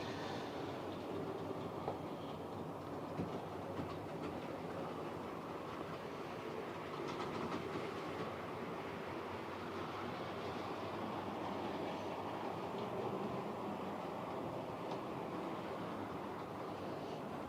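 A model train runs continuously around a tabletop track, a steady rumbling whir with faint clickety-clack over the rails, close and even throughout with no talking.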